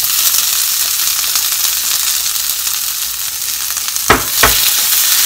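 Bamboo shoots and beef frying in a pan, a steady loud sizzle with a couple of sharp bursts of spatter or stirring near the end.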